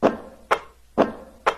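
Four basketball swish sounds at their original pitch arrive at an even pace, each a short breathy burst that fades quickly, close and with no voices.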